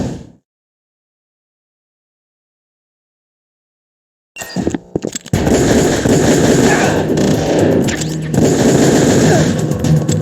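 Sustained automatic gunfire from Metal Gear Solid: The Twin Snakes bursts in after several seconds of silence, loud and dense, with rapid continuous shots layered over game noise and faint voices.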